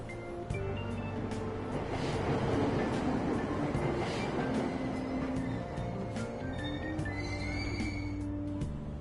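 A subway train at a station platform in the video game Persona 5 Royal, with a low rumbling hum, shifting tones and chimes, heard alone.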